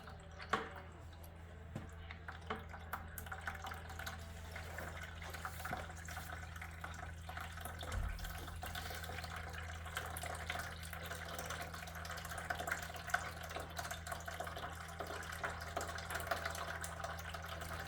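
Water drains slowly from a water treatment filter tank, a faint steady trickle and drip with a low hum in the background and no speech.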